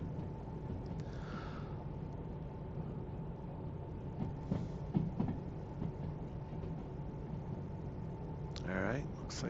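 A low, steady rumble of a heavily loaded train rolling downhill on rails in the Derail Valley simulator, with faint squeals and clanks rising near the end and no speech heard.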